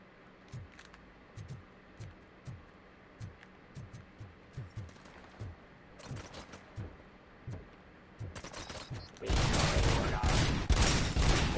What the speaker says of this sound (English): What was it shooting at?